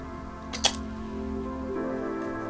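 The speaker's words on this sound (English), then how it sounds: "Open the back by lifting up gently on the rewind knob." The back of a Pentax ME Super film camera is opened, making one short, sharp click close by, with quiet before and after.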